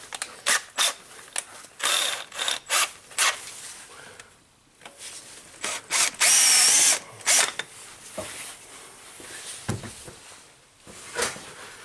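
A drill works on a Toyota Camry engine, enlarging a hole in short repeated bursts of grinding whir separated by pauses, with one longer, louder high-pitched run in the middle, all close and without talk.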